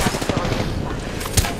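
Video game gunfire in a battle-royale match, with rapid automatic bursts and a louder single shot near the end, close and dense over a noisy game background.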